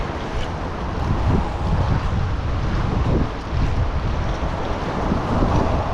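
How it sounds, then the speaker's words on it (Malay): Strong wind at sea under a Penang bridge during a jigging trip, steady loud gusting buffet and microphone rumble with water wash beneath, no voices. "Angin kuat ni geng, tak boleh buat apa."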